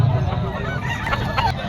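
Gray rooster for sale at the Bocaue pet market, with fowl calls mixed into a dense, steady wash of crowd noise and nearby chatter.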